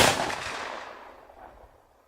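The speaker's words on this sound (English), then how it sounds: "Suddenly, a single gunshot was heard." A single gunshot cracks out loud and sharp, then trails into a rumbling echo that fades over about two seconds, with no other sound around it.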